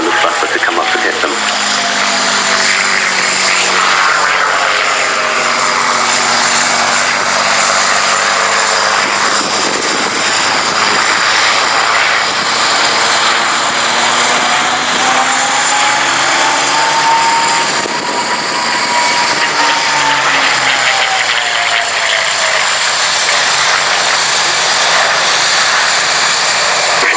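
A propeller-driven aeroplane flying at the RAF Cosford Airshow, a loud steady engine drone that rises and falls in pitch as it passes, with a commentator talking over it throughout.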